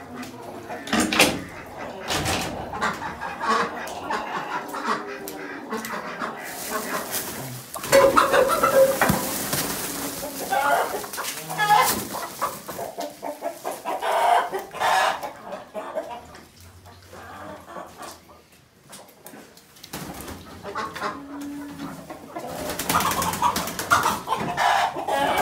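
Chickens cluck and murmur inside a coop, intermittent calls close by, mixed with background rustling and stretches of people talking.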